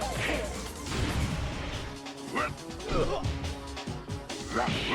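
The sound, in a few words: metal sounds of robot Jack-2 being smashed, Tekken 2 video game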